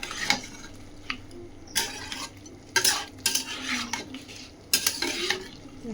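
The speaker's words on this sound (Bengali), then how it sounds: "এবার মশলাটার সাথে কষিয়ে নেব" Mutton fries with ground spice paste in a pan and is stirred. A quiet bed of sizzling is broken by bursts of loud scraping and clattering of a spoon against the pan, in uneven strokes with no voices.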